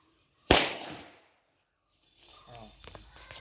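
A single Vishu firecracker bursts with a sharp, loud, close bang that decays over about half a second, followed by silence and then people talking quietly.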